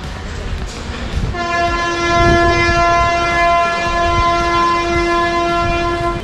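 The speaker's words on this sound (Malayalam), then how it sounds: "railway station entry" A train at a railway station gives a loud, sustained horn blast that starts after about a second of ambient station noise and holds steady to the end.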